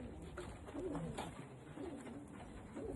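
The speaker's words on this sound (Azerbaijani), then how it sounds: "Quş balasıdır ya, yaxşı qənət vurur" Young pigeons coo softly at a bird competition, with low, rolling coos repeating over a steady background hum, faint and somewhat distant.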